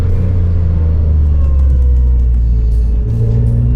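A Renault Clio V6 engine drones loudly through a corner, a deep steady rumble with shifting pitch as revs change, heard close from inside the car with no talk.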